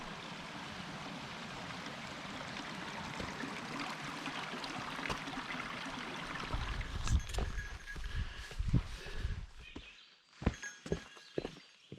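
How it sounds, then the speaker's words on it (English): Small streams of running water along a mountain hiking trail, a steady broadband rush for the first six seconds, then thinning into close trickles and splashes with a few footstep-like knocks near the end. "Really quite a lot of water on this hike. I don't remember there being so many little streams."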